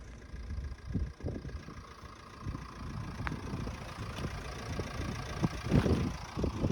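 A vehicle travels a rough, unpaved rural road, its engine a steady low rumble with uneven bumps and jolts throughout, and no talking.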